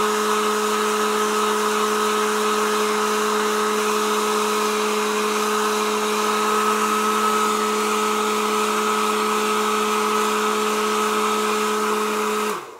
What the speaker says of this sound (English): so nice and efficient heater right there, or hand dryer.